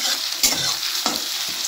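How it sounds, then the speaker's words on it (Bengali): Onions sizzle steadily in a hot pan for a bean and bottle-gourd peel bhaji, with a few scraping stirs of a spatula cutting through the constant frying hiss. "এবার আমি এটা ভালো করে পেঁয়াজটা একটু ভেজে নেব"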